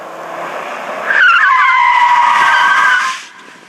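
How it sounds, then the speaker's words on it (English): A car in a braking skid test on a closed course screeches its tires in one long, loud squeal lasting about two seconds, rising sharply and then fading as the car stops, with a low engine hum beneath. "we just performed a skid test out here"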